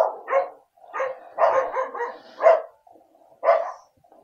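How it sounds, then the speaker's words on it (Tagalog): Several dogs bark and yip in short, overlapping bursts at a moderate distance, with brief pauses between the volleys. "Daming aso."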